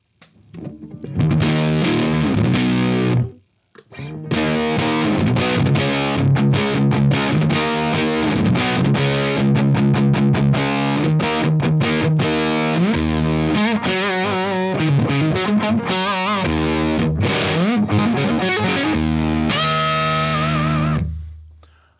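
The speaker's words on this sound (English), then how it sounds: "I'm going to turn the harm all the way down with the distortion all the way up" A HipKitty Chameleon effects pedal with the harmonizer knob all the way down and distortion all the way up gives a fuzzy, buzzy distorted guitar tone, played loud as continuous chords and riffs with a short break near the start.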